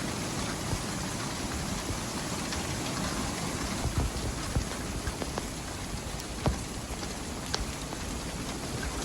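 Hail pelting a small homestead garden during a sudden heavy storm, a dense steady patter with scattered sharper stone impacts standing out, close and continuous with no voices.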